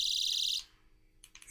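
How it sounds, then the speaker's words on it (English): A small, super-bright 900-lumen flashlight sounds its alarm: a loud, shrill, pulsing electronic tone that cuts off abruptly, then briefly resumes in short bursts. "It's got an alarm."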